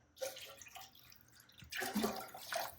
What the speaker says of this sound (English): You might hear some of the water flowing down.